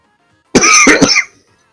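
A single loud, close cough into a microphone, one burst with a couple of quick pulses lasting under a second, set against silence.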